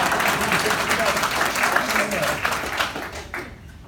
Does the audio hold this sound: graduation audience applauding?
yes